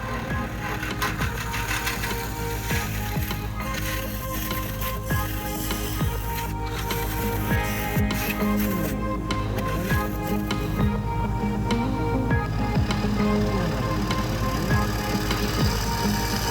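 Wood lathe spinning an avocado bowl while a carbide tool cuts it, giving a steady, dense machine whir with continuous scraping texture for the whole stretch, fairly loud and with no talk over it.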